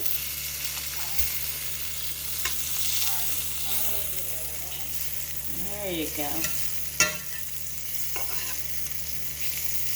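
Butter fries with a steady crackling sizzle in a hot pan, with occasional stirring scrapes, while a person speaks briefly over it.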